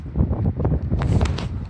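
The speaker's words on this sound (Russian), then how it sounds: "Ветер поднялся." Gusts of wind buffet the microphone in rough, uneven bursts, loud and close, with a rustling quality, at a mountain grotto.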